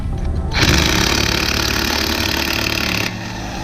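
An impact wrench loosens a lug nut on a 2003-2007 Honda Accord in one sustained, loud, buzzing burst of rapid hammering lasting about two and a half seconds, heard up close with a low hum before and after and no speech.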